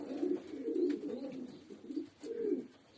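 Pigeons coo in a pigeon loft, a continuous series of soft, low, rolling calls that overlap and swell, close by and alone without talking.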